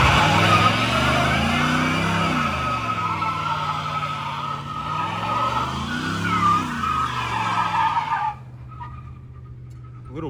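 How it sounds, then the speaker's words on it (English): A Hemi car does a tire burnout on wet ground: a loud, close engine roars and revs in rising and falling waves over steady tire screech, then cuts off abruptly near the end, leaving a low idle. "You think I should burn some tires a little bit?"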